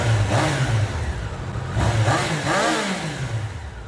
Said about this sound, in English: we have the Triumph Daytona 660, featuring the only inline 3-cylinder engine being compared today.